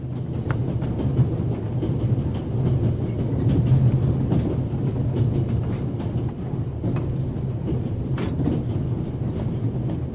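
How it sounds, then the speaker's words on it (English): The Orient Express from Paris to Istanbul rumbles steadily in the video game The Raven, a continuous low rolling drone with faint rhythmic clicks of the wheels on the track. "This train began in Paris and ends in Istanbul as usual."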